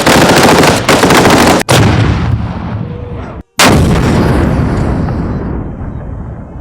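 A restored, fully operational Soviet-era tank at a Russian and Soviet weapons celebration fires its gun in a series of very loud, booming blasts. Each one is followed by a long rumbling decay, with one brief sharp gap between shots.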